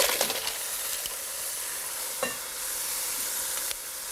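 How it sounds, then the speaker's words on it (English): Clams sizzle steadily as they fry in a pan for a Mediterranean pasta vongole, a continuous bright crackling hiss with a few soft clinks of the pan, close and alone with no voices. "You see it's sizzling."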